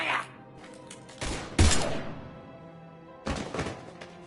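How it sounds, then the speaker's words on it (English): Gunfire in the video game Mass Effect 3, a few heavy broadband bursts: a loud thump-like volley near the middle, another shot earlier and a final burst near the end, with quieter game ambience between. "Now open fire!"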